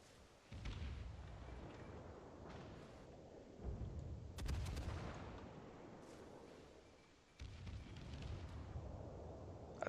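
Secondary guns of the battleship Yamato firing in World of Warships, heard as a rapid run of loud booming shots and blasts clustered through the passage, with sustained rumbling between volleys and no talk.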